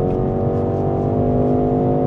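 A 2025 BMW X3 30e plug-in hybrid in sport mode, its engine holding a steady, droning rev from start to finish. The hum is loud and close, with no talking over it.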